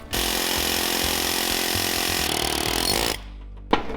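A loud, steady mechanical rattling drone of a pneumatic air hammer working on a Toyota FJ45 runs for about three seconds, then cuts off, followed by a brief short burst.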